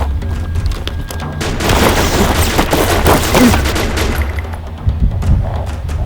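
Sustained gunfire in a game, a dense barrage of booming shots and bursts rolling together loudly with no pauses, like heavy automatic fire with rumbling explosions underneath.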